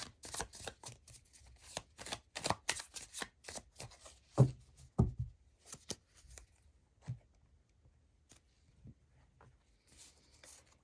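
Light Seer tarot cards being shuffled close up, a run of quick crisp riffling flutters that thin out into sparse, softer card taps and slides, with no talk.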